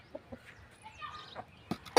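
Hens clucking softly in a farmyard, a few short scattered clucks and chirps, faint and intermittent, with a louder burst at the end.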